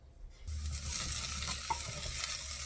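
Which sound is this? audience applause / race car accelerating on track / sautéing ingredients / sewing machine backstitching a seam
sautéing ingredients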